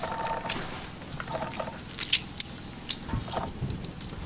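Lemon being squeezed by hand, soft close wet squishing and a few small squirts and drips, quiet and brief with no speech.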